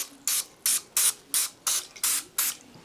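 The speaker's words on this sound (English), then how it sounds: "Now I'm going to spray this skin with a little bit of oil" Seven short, sharp hissing bursts from an aerosol can of olive oil grilling spray onto turkey breast skin, evenly spaced and close up, each lasting a fraction of a second.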